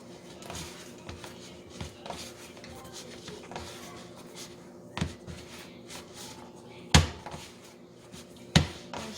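Bread dough is kneaded by hand: soft, irregular rubbing and pressing at low level, broken by a few sharp slaps and knocks of the dough on the work surface.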